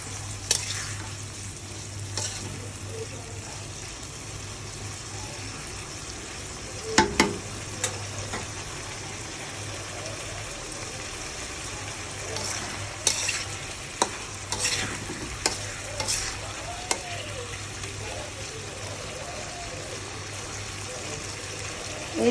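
Taro and spices fry in a pan, with a steady low sizzle and repeated scraping, clattering strokes of stirring spread through the clip alongside a constant background hum.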